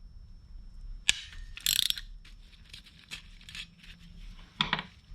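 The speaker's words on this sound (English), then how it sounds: "I'm going to take my new adjusters apart" New plastic Hella headlight adjusters for a Hymer motorhome are taken apart by hand, giving a few short close ratcheting clicks and plastic snaps separated by quiet pauses.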